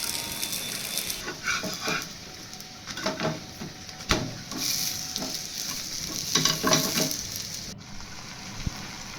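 A dosa cooking on a hot pan, sizzling steadily while a utensil scrapes and turns it in irregular bursts, close and fairly loud, with no talking.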